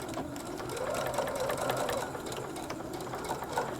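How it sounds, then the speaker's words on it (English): A sewing machine running a quarter-inch seam on a tote bag, giving a continuous close whirring hum with rapid needle ticking that holds steady for a few seconds, with no voices. "You'll just take it back to your machine and stitch 1/4 inch."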